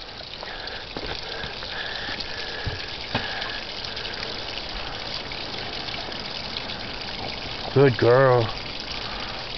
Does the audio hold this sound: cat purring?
no